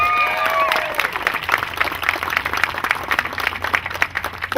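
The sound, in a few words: audience round of applause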